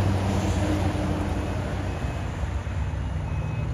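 A bi-train truck maneuvers with a loud, steady, heavy rumble and a constant wash of noise and no break.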